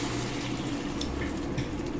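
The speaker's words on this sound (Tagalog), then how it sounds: "So bali maglalagay tayo ng isang basong tubig." A glass of water is poured into a cooking pan of creamy chicken and mushrooms, giving a steady close splashing rush over a low sizzle.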